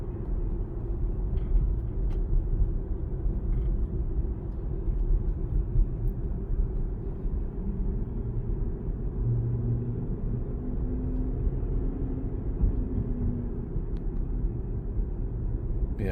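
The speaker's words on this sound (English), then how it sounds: "it's almost like the car kind of plays music when it drives on this road, just because of how the pavement is grooved with the tires I have" A car rolling over grooved pavement gives a low, steady tire hum inside the cabin, with a faint tonal whine rising and falling over the constant road rumble.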